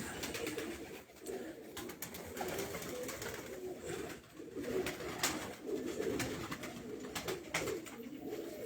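Pigeons coo close by, soft repeated throaty calls over a busy background of rustling and flutters.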